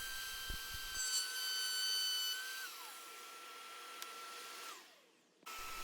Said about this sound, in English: Now I'm cutting the hinge mortises.